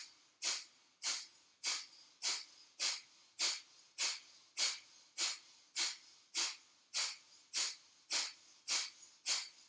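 Slow deep breaths in a hatha yoga breathing exercise, repeating steadily around fifteen times in an even rhythm, each airy breath close and clear with no talking.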